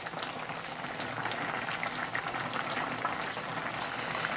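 Chinese soup bubbling at a steady rolling boil in a pot, a dense continuous crackle and gurgle with no pauses and no voices.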